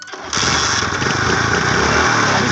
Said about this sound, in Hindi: जो ही मैं इसके अंदर चाबी इंटर करता हूँ बाइक स्टार्ट हो जाती है